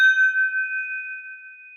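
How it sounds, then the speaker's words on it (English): A glass rings once against a Glencairn whisky glass, giving a clear, bright chime that sustains and fades slowly over a couple of seconds, alone in silence. "It's my chime against my Glencairn glass."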